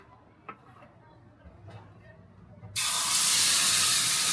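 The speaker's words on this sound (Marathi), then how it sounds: "मस्त आपण तवा ठेवलेला आहे आणि आता मस्त डोसा बनवत आहोत आपण" Dosa batter hits a hot tava with a sudden, loud, steady hiss that begins partway through and holds to the end, after a quiet stretch with faint background sounds.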